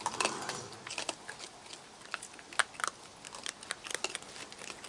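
Baby raccoons crunch on food while feeding outdoors, a dense run of sharp, irregular crackling bites and chewing, close and fairly loud, with no voices.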